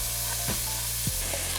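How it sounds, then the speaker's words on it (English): Pancetta frying in a little oil in a pan gives a steady, close sizzling hiss, with a couple of brief scraping strokes. "And we're gonna fry it up. Put it in my pan with a little bit of oil."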